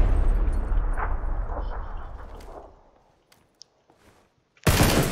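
Grenade going off in PUBG: a loud, close blast that rumbles and fades over a few seconds, then near-silence, then another sharp, loud burst at the end.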